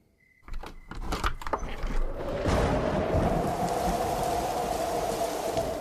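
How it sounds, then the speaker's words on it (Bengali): Heavy rain on a dark stormy night with thunder and gusting wind: a few quick knocks and rattles open, then a loud, continuous rushing roar of rain swells in with a low rumbling underneath, with no talking. "বাইরে আকাশ ভরা অন্ধকারকে ভিজিয়ে হুড় করে বৃষ্টি পড়ছে আর চকচক করে বিদ্যুৎ চমকাচ্ছে আর ব ব করে ঝোড়ো হাওয়া ছুটছে"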